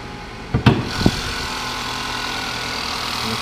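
A 2014 Chevy Malibu's 2.5-liter EcoTec engine idles smoothly with a steady, even drone, interrupted early by a couple of brief bumps or knocks before settling back to the constant running sound.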